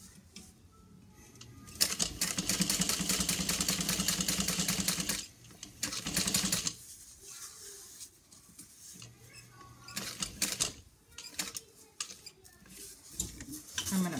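A sewing machine stitching a handbag runs in loud bursts of rapid stitching, with a long run near the start, a shorter burst, then brief stop-start pivots and single stitches, heard close with no talk.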